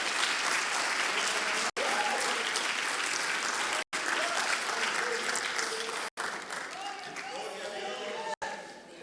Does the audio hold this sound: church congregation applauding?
yes